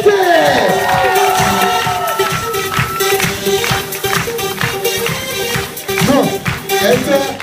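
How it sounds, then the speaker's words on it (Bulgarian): Hotel entertainment audience cheering and shouting after a marriage proposal, loud and sustained with whoops and children's yells over music-like tones, voices mixed in throughout. "Еще раз. Аплодисменты!"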